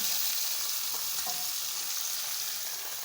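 Tomatoes hit a hot pan for baingan bharta and fry with a soft, steady sizzle, faint and continuous, with a few light clicks of stirring.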